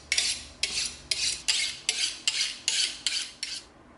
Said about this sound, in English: we're now going to come in with our box cutter and we're gonna cut this blade off on an angle